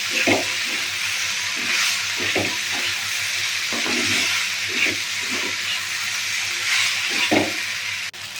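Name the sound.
pasta frying in pan with salt and turmeric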